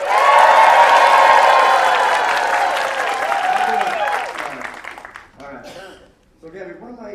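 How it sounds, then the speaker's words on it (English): An audience at an eighth grade continuation ceremony cheers and applauds loudly, with sustained crowd roar that fades as voices take over near the end. "A big cheer for Gabby."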